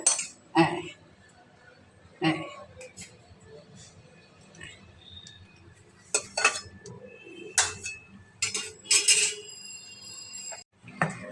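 Cooked oil-koi fish curry is tipped from a pot onto a plate, with scattered clanks and clinks of metal cookware and utensils, clustering into busier clatter toward the end, and some talking in between.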